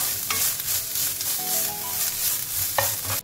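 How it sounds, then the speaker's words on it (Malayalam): Sliced onion and grated coconut stirred and sautéed in a hot pan for a chickpea and potato kurma masala, a steady soft sizzle with the spatula scraping and tapping against the pan throughout. "അതിലേക്ക് തേങ്ങ കൂടി ചേർത്ത് കൊടുക്കാം ഒന്നുകൂടി ഇതൊന്ന് വഴറ്റി എടുക്കാം"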